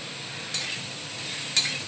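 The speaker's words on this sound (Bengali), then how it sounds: "একটু ভাজা ভাজা হতে হবে" Vegetable stalks frying in a pan with potatoes nearby in a home kitchen, a steady close sizzle broken twice by sharp stirring scrapes.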